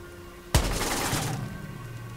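Gunfire in the Watch Dogs video game: one sharp, loud shot opens a dense sustained burst of rapid fire that rolls on for well over a second before trailing off, with no voices.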